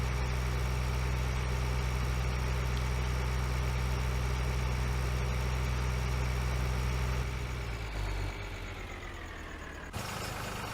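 A small tractor engine idles in Farming Simulator 2013, a steady low rumbling drone that runs unbroken and close, shifting slightly in pitch near the end, with no voices.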